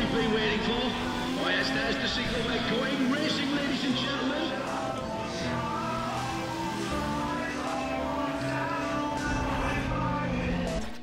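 A racing car's engine drones on and on in Need for Speed ProStreet, revving up and down as gears shift, with someone talking over the game sound.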